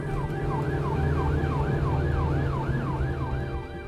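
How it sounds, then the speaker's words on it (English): An ambulance siren wails in a fast rising-and-falling cycle, loud and close, over the low rumble of the ambulance's engine as it responds to an emergency 999 call in England. "ambulance technician Colin Wilson is at the wheel responding to an emergency 999 call."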